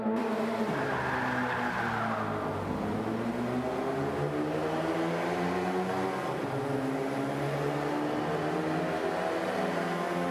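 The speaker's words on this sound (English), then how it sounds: "just enjoy the sound of this little mini engine." A small Mini's engine revs through its gears while racing in Forza Motorsport 5, a steady, loud, close engine note that sweeps up and drops at each shift, with no talk.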